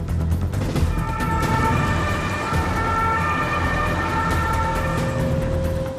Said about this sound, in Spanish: Sami Majale es trasladada de urgencia al hospital de Dortmund en una ambulancia de cuarentena